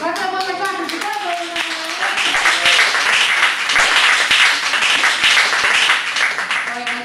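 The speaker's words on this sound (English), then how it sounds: "Right, clap it up one more time for Chicago." Open mic audience in Hot Springs, Arkansas applauding after a poetry reading, a dense, loud round of clapping lasting about seven seconds, with a voice speaking briefly at the start.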